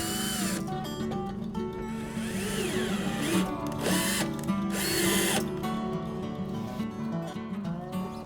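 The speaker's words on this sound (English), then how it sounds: "put a couple screws in to make sure that it stays very nicely down" A power drill drives screws into an epoxy flange on a trimaran, close and loud. Several bursts of whirring with a ratcheting, rising motor pitch are separated by brief pauses.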